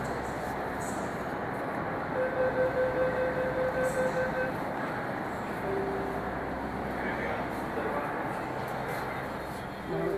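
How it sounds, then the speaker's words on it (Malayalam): A steady roar of a Delhi Metro train arriving at an underground station, continuous and fairly loud, with a faint tone sounding briefly partway through. "നമുക്ക് കയറേണ്ട മെട്രോ വന്നു."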